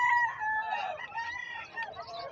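A rooster of the Golden Boy bloodline, offered for sale, crows in one long call with a fading tail, fairly close and clear above faint background murmur.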